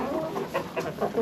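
Chickens cluck softly inside a coop on a frigid -11°F day, a few short bursts rising over a steady low background hum, with no voices.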